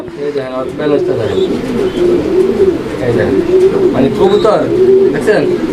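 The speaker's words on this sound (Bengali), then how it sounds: "এটা কিন্তু আসলেই একদম স্পেশাল একটা কবুতর বিশেষ করে রেসারের জন্য" Racing pigeons coo loudly and close by in repeated throaty rolling calls, one pair among others, under someone talking over them.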